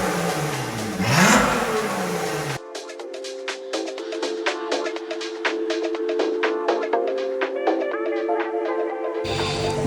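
A Lotus Exige V6 on its standard exhaust, in race mode with the valves open, gives one loud rev that climbs and drops within the first few seconds, followed by a stretch of sharper, clattering, tonal sound.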